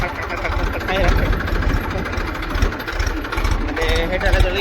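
A tractor engine idles with a rapid, loud low-pitched chugging pulse that continues steadily throughout, while a person talks over it.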